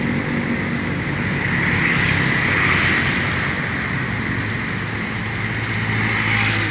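A Laju Prima bus rolling past on the road, a broad continuous roar of engine and tyre noise that swells gently and stays fairly loud throughout, with no voices.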